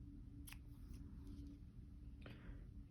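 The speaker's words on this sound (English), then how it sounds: "I'm going to cut off my yarn." Scissors snip through crochet yarn, two short close cuts about two seconds apart over a steady low background hum.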